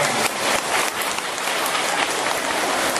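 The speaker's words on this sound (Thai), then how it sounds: "ปรบมือเป็นกำลังใจให้ผู้แทนของ" Sustained, dense crowd applause at a political rally in La-ngu, Satun, Thailand, loud and steady across the whole moment with no speech breaking through.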